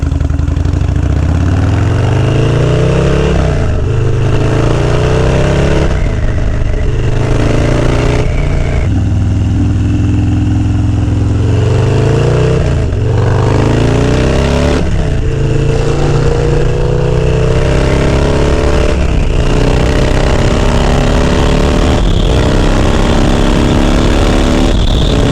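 Car engine revs hard through repeated gear pulls on a drive from Long Island upstate, loud and close, rising in pitch then dropping at each shift across the whole stretch, with no talking.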